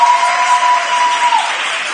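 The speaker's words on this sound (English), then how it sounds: "Can we take a second and give the event producer for tonight a round of applause?" An audience applauds steadily for the evening's event producer at a live event, a dense, even wash of clapping that runs the whole time and fades slightly near the end, with a faint tonal whine underneath.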